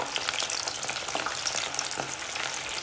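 Shrimp fry in hot oil with a dense, continuous crackling sizzle, bright and close, with scattered pops and no voices.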